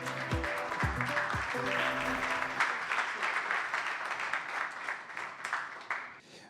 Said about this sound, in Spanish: Fuerte los aplausos para él.